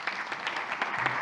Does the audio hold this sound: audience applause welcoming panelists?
yes